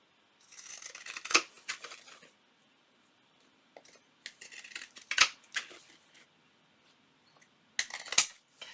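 Scissors snipping through fabric while trimming a small fabric-covered junk journal, three close, quiet bursts of crisp cutting strokes separated by pauses.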